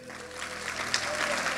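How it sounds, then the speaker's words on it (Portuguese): Applause from a church congregation, a brief burst of many hands clapping at moderate volume, dense and continuous with some crowd murmur mixed in. "Uma salva de palmas para ele."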